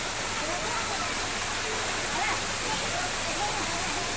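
A waterfall pours in a steady, close, hissing rush of water that holds level throughout without any break.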